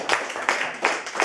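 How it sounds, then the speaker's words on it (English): A small audience at a Toastmasters speech meeting claps briefly, a few sparse close hand claps in a loose rhythm. "Please give him another round of applause."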